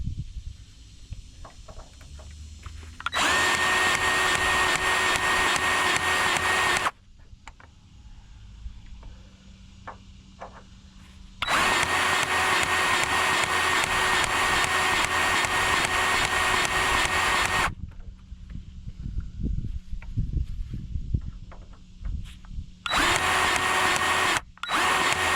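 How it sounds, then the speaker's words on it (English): A Milwaukee electric grease gun greasing the fittings on a Chevy Silverado truck, its motor whining loudly in three sustained bursts separated by quieter pauses. "we're going to use the Milwaukee grease gun from work"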